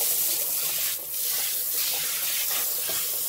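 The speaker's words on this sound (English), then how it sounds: "Don't have the water on full blast like I just did for this." Tap water running at full blast into a sink with a strainer, where monarch butterfly eggs on leaves are being rinsed; a steady, close hiss of spraying water that continues without pause.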